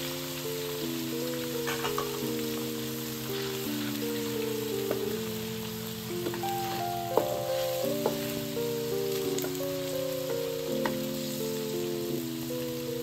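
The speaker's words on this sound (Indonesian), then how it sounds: "telur kita goreng ni." Steady sizzling of a chicken egg frying in a pan for fried Lee Fah mee with pork mince runs continuously beneath a gentle, stepping melody of background music.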